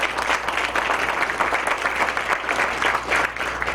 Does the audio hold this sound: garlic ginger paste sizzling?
no